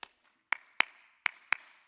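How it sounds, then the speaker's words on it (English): Five sharp hand claps in an uneven rhythm, single and paired, close and clear against silence from a school conference audience. "This time we're going to clap a rhythm in between each line"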